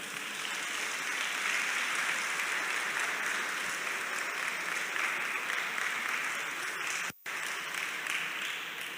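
Children at a ceremony with President Patrice Talon and top-ranked pupils applaud their teachers: dense, sustained clapping from a large crowd that holds steady throughout, with one sharp momentary dropout near the end.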